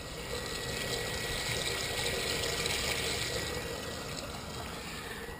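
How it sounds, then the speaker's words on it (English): Water runs steadily down a yard downspout into an underground drain tile, a constant rushing, trickling flow heard alone at an even level without pauses. "I can hear water going into the drain tile."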